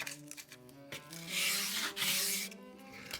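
Abrasive paper rubs over the edges of a wooden guitar fretboard, a few short, soft rasping strokes swelling into a louder scratchy pass, close up and quiet with no talk.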